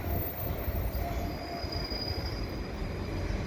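An AMT MR-90 electric multiple unit train rolls by close up in Montreal with a steady, loud rumble of wheels on rails and a thin, high wheel squeal running through it, no voices.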